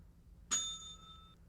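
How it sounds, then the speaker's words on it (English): A single bell in the X-Files video game rings out once with a bright, clear strike, its tones ringing on and fading over about a second above a quiet background. "Let's ring this bell"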